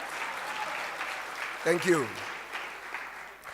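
Audience applause in a large event hall, a soft broad patter of clapping throughout, briefly overlaid by a speaker's voice in the middle.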